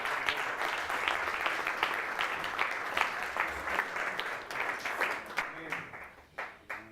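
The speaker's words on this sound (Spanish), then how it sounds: "Dale un aplauso al Señor por eso." A congregation at a men's church convention applauds: sustained, lively clapping from a large crowd gradually thins into scattered individual claps at the end.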